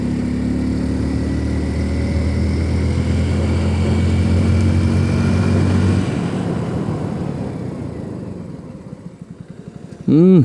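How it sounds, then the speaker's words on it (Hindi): A 2022 Hero Splendor Plus Xtec motorcycle engine drones close by, then its pitch falls away as the bike slows under rear braking from 60, fading toward a low idle. "चलिए इसको जो रियर ब्रेक है 0 to 60 पे उसको भी चेक करते हैं"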